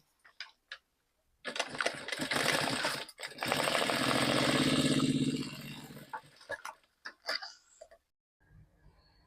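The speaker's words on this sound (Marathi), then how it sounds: "आधी आपण इथे शिलाई मारून घेऊयात" A sewing machine stitches a seam while attaching a readymade designer patch, running in two sustained mechanical bursts with a steady rapid rhythm, separated by brief pauses and followed by a few short clicks.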